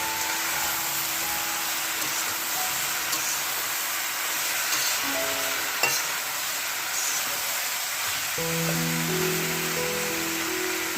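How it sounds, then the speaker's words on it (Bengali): Mixed winter vegetables frying uncovered in a pan, a steady broad hiss of sizzling, close, while faint tonal background sounds drift in and out. "এমনি ভাজতে হবে ঢাকা না দিয়ে"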